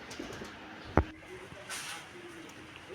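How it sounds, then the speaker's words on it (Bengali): Pigeons coo softly on a rooftop, faint and somewhat distant, with a single sharp knock partway through and quiet background noise. "অনেক অনেক পাখি আসে মানে পায়রা যেটা বলে"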